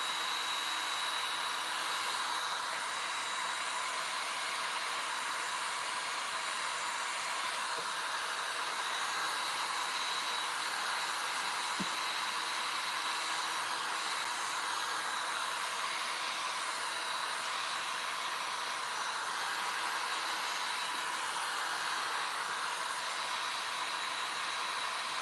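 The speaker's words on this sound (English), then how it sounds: "And then you'll go ahead and apply that hair dryer heat." A hair dryer blows steadily and continuously at close range over cracked gesso paint, a constant whooshing hum with no breaks.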